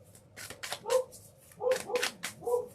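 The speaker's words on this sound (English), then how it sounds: "the dog is barking" A dog barks several times in short clustered bursts, fairly close, with faint shuffling and rustling in between.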